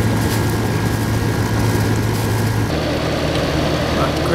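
A 1989 Crest Carry Cool window air conditioner runs with a steady, loud droning hum and low motor tone, an even blowing rush that continues without a break.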